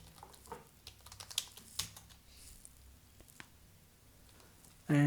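A command being typed on a computer keyboard as a short run of light, irregular key clicks, then a louder keystroke and a voice starting right at the end.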